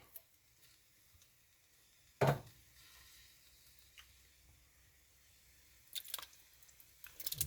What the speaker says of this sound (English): Now let's start adding our crushed tomatoes.